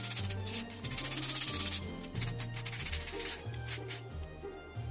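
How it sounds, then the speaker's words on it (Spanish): Sandpaper rubbed by hand over small wooden coasters and their wooden box base, a steady close scratching in repeated strokes, louder in the first seconds and then continuing in shorter passes, with no talk. "le vamos a pasar suavemente una lija a cada uno de los posavasos y a la base, a la cajita."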